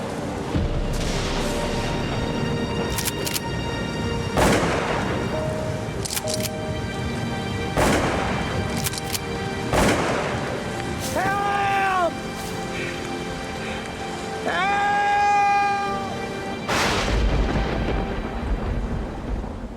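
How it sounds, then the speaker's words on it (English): Thunderstorm on a mountain at night, with repeated loud thunder cracks and rumbles over steady rain, while some whistling or tonal calls rise and fall partway through; no speech. "As night falls, the storm gets worse"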